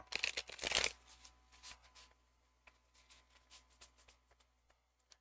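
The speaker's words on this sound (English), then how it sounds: "Surprisingly, these are shuffling fairly decent for you." Tarot card deck being shuffled close up: a loud riffle burst at the start, then softer scattered card slides and taps fading into quiet, no speech.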